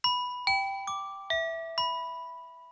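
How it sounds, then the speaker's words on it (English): Glockenspiel voice on a Yamaha keyboard plays five bright struck metallic notes at a steady, unhurried pace, each ringing out with a sharp attack and slow decay, heard clearly and alone. "The Glock is really nice too."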